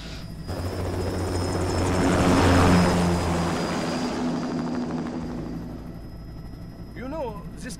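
A Metal Gear Rising aircraft lifts off, its engine roar swelling to a peak and then easing into a steady drone with a high whine on top; a voice briefly speaks near the end.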